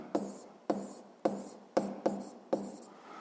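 A pen writes a formula by hand on paper, six short scratchy strokes in an uneven rhythm, close and quiet.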